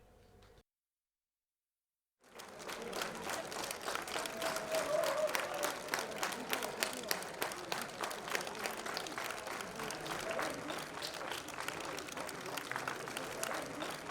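A university crowd gives a long, stormy ovation for a young Abkhaz boxing champion, a student and youth world titleholder. After a brief silence, dense clapping swells and holds steadily with a few sharper individual claps standing out.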